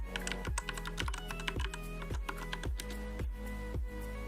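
Keys tapped on a computer keyboard while entering a password during server setup, a close, even run of crisp clicks at a steady rhythm, about eight distinct strokes, with no talking.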